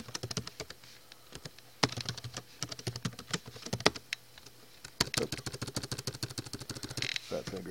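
Someone types a password on a computer keyboard, producing close, quick, irregular key clicks in clustered bursts with brief pauses, ending in a faster run of keystrokes.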